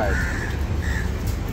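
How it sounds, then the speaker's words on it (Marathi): Crows cawing as they flock in for chicken scraps tossed out at feeding time, a couple of drawn calls over a steady low rumble of background noise. "बघा कावळे कसे आले बघा फटाफट"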